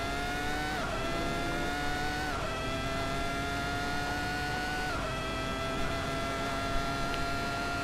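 A Ferrari F2002 Formula One car in Assetto Corsa at full speed, a piercing onboard engine whine climbing through several quick upshifts about every two seconds, loud and continuous with no voices.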